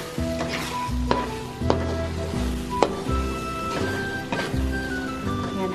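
Egg being stirred into sautéed bitter gourd (ampalaya) with corned beef in a pan: soft sizzling under repeated scraping and clinking of a spoon against the pan, close and fairly quiet.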